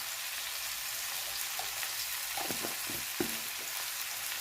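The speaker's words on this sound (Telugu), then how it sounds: "అదే ఆయిల్లో మనం ఇందాక కట్ చేసి పెట్టుకున్న పొటాటో పీసెస్ని కూడా వేసుకున్నామండి" Potato pieces sizzling in hot oil, with a steady bright crackle and a few soft stirring knocks partway through, close and continuous.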